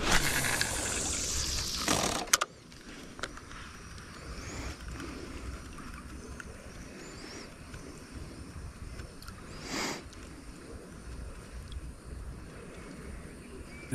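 Fast river water in flood rushes steadily around an angler wading thigh-deep, a loud close splash at first, then a continuous lower gurgling flow with occasional sharper splashes.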